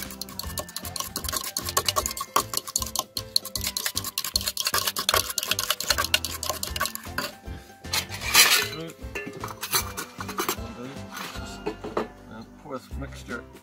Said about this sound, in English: Salt and pepper. And we'll just whisk that.